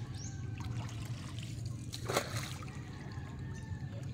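Floodwater flows steadily beside a dike after inundation in Agusan, a continuous low rushing and trickling wash with a brief louder splash midway.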